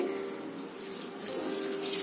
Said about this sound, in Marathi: आता आपण ह्याला 4 ते 5 पाण्यामध्ये स्वच्छ धुवून घेऊ